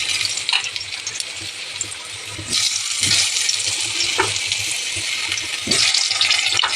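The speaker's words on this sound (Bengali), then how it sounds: "আলুটা পেঁপেটা গরম তেল গরম তেলে দিয়ে ভেজে নেব" Potato and papaya pieces frying in hot oil in a kadai, a loud steady sizzle with bursts of stronger crackling as the pieces settle, alone without talk.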